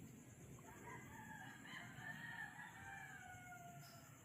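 A rooster crows before dawn at the edge of a city, a long drawn-out call that sounds rough and unhealthy. It carries at a moderate distance over a steady background hum.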